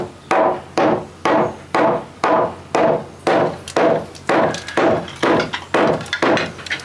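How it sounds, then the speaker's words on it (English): A hammer taps a wooden roof beam into place in a cottage renovation, delivering about a dozen loud, evenly spaced thuds that come faster toward the end, close by with no talking. "So I've just got to tap the beam up, get some fixings in it"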